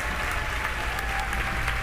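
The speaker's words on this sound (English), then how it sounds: "the crowd is definitely hyped about this" A crowd claps and cheers steadily at a Starship launch event as a Starlink V3 satellite is deployed, a dense continuous wash of applause with no pauses throughout.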